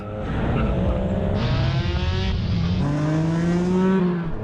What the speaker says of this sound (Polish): Teraz możemy wreszcie zacząć wyścig.